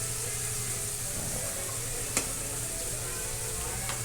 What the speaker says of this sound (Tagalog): Paglagay natin yung bawang. Nagmantika na yung karne.